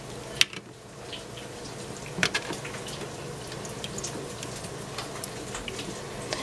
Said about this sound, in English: Let it drain in a strainer for a minute.